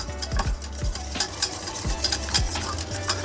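A whisk beating béchamel sauce in a pan, quick repeated scrapes and taps against the metal in an irregular rhythm, close and fairly loud over a soft bubbling.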